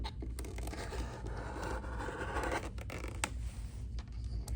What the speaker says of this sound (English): Then you line this up on the 2 1/4 piece again, and you cut again.